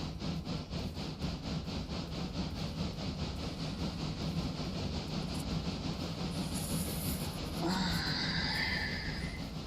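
Steam locomotive running in the train game Railroader, a steady rhythmic chuffing and rolling rumble with rail clatter, continuous and fairly close, with a brief hissing burst of steam near the end.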